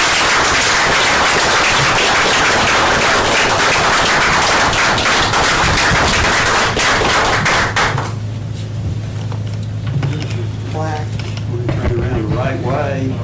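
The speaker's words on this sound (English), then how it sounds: "please join me in a big round of applause for Josh" Applause from the audience at a town council meeting, dense clapping for about eight seconds that then thins into scattered claps under voices and low background hum.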